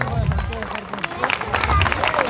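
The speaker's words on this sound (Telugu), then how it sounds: "అలా అనుకోవాలంటే మీరు అందరూ చప్పట్లు కొట్టాలి" Audience at a Telugu-language gathering clapping together, a dense burst of applause with crowd murmur beneath and a voice talking over it.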